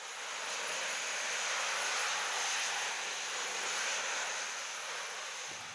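Steady broad roar of jet engines held at their lowest setting, a continuous even hiss-like rumble with no talk, sustained throughout.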